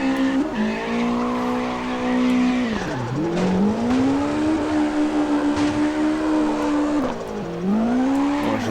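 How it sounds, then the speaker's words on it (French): A car in CarX Drift Racing drifts with a loud, sustained tire squeal over a droning engine. The engine pitch dips and rises as the slide carries on, with no speech. "On va essayer de drifter dans les zones réservées au drift."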